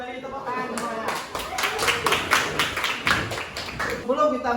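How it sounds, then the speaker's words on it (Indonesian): Schoolchildren in a classroom clap their hands in a quick, lively burst of many hands close by, framed by a teacher's voice speaking before and after the applause. "tepuk tangan semuanya"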